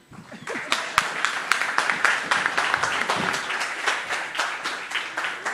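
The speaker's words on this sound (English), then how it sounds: "A round of applause for him, ladies and gentlemen." An audience at a conference talk on Bitcoin data and privacy breaks into applause, with dense, crisp hand claps that build quickly and carry on steadily.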